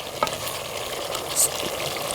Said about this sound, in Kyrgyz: Эми болсо буну аралаштырып алабыз.